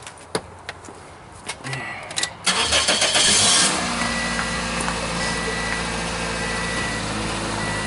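A car engine cranks for a few seconds, catches with a loud roar, then settles into a steady close idle.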